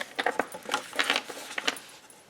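Scissors snip through card paper as a folded greeting card base is cut, giving a quick series of crisp, close, light cutting clicks in irregular bursts.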